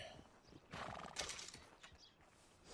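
A horse in the Red Dead Redemption 2 video game gives a loud whinny over clip-clopping hooves, close and brief against a noisy game background.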